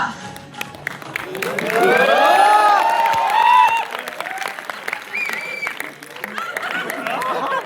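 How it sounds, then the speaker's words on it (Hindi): A crowd at a Doctor's Day celebration at ESIC Medical College & Hospital, Patna, breaks into loud applause and cheering as a guest comes on stage, swelling then easing into chatter, with a voice over the top. "तो स्वागत करिए जोरदार तालियों के साथ पप्पू बाहुबली जी का"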